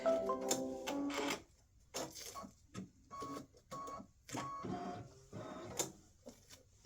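An embroidery machine stitches around a mug rug, giving off quiet intermittent whirring bursts and clicking needle strokes with short pauses between passes, close by and fairly soft.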